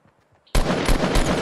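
Rapid gunfire from an automatic weapon in the Fortnite Battle Royale video game, a dense burst of loud, close shots starting abruptly after a brief near-silence and continuing steadily.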